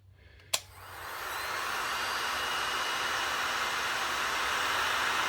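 A heat gun switches on with a sharp click and ramps up into a steady, loud airy roar while heating a vacuum hose for a Mk3 Supra, continuous and close.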